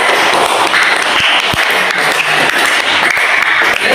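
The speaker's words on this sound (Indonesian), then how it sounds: "Tepuk tangan." Applause from an audience after a student team's classroom presentation of an automatic attendance system, steady dense clapping throughout, loud and close.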